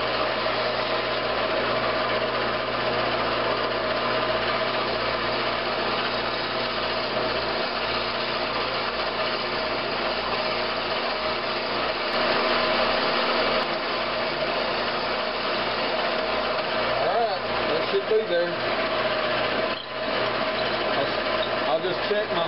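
Wood lathe running steadily with a half-inch bit drilling into a shopmade vacuum chuck workpiece, a constant mechanical whine and hum throughout with slight changes in load near the end.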